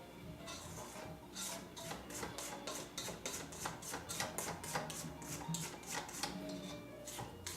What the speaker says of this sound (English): I'm going to scrape the sides again.